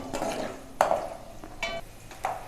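Garlic and chana dal frying in a pan for tamarind rice, with soft sizzling under a few scraping strokes of a spoon in an irregular rhythm, close and moderately quiet, with no voices.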